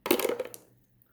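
Dice clatter and tumble across a table in a tabletop baseball game, a quick close rattle of bounces that settles and fades within a second.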